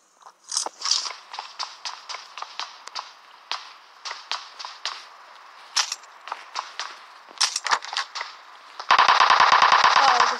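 Rapid automatic gunfire from the PUBG video game in a solo match, bursts of sharp shots in quick rhythm, ending in a dense, loud sustained volley, with no talking.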